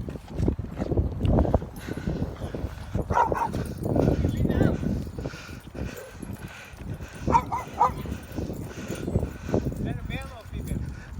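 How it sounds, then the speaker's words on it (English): A dog barks repeatedly in short, irregular bursts during a sunny walk outdoors, fairly close, with people talking over and between the barks. "She's barking."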